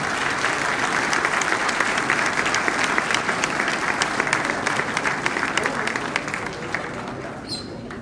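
A crowd at an education consultation forum gives a warm welcoming applause to an arriving speaker, a full, continuous roar of clapping with crisp individual claps up close, tapering a little in the last seconds.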